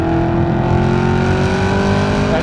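Chevrolet Camaro ZL1 1LE accelerating hard through its 10-speed transmission, a loud sustained engine roar climbing steadily in pitch from up close, with no talking.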